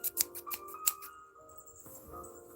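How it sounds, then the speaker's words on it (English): Scissors snip through the tip of an icing bag for a gingerbread Oreo house, a few quick close crisp cuts in a row, then softer plastic rustling in quiet surroundings. "I gotta snip the tip here in just a moment"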